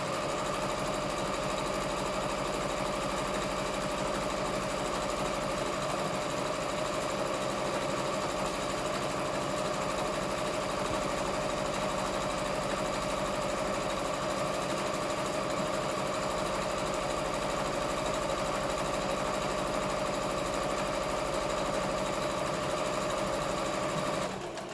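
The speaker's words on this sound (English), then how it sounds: "put the needle down and start sewing, back stitch" A sewing machine stitches a gathered top or dress from the wrist down toward the hem, running as a loud, continuous, even mechanical whir that holds steady throughout.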